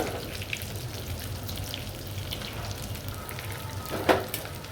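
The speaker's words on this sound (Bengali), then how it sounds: "একদম লাল লাল করে আমি ভাজবো" Beef kofta meatballs frying in a pan, a steady close crackling sizzle that runs throughout with a brief sharper pop near the end.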